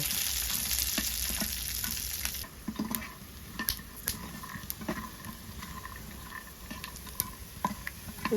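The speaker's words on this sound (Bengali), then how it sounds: "এবার প্যানে দিয়ে দিব বাদাম বাদামগুলোকে নাড়াচাড়া করে ভালোভাবে ভেজে নিব" Peanuts are stirred and fried in a pan, giving a continuous sizzling patter broken by scattered scraping and rattling clicks from the stirring, heard close up with no talk.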